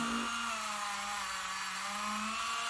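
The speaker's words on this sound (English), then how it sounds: "this is like a spongy buffer abrasive wheel" A spongy buffer abrasive wheel spins steadily on a power tool, a continuous whirring hum with a sustained tonal whine, heard alone and fairly close.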